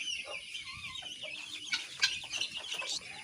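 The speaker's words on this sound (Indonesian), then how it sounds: "ini adalah ayam-ayam yang saya bok" Young Bangkok chicken chicks in a brooding box kept without a lamp, clucking and peeping in a busy, overlapping stream of short calls at close range, with no voices.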